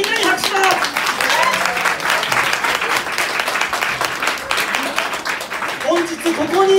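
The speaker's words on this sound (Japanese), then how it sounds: "みんなに拍手だ。" An audience at a Shinsaibashi beer bar reunion event claps loudly and continuously for the gathered classmates, a thick wash of hand claps with voices talking and calling out over it throughout.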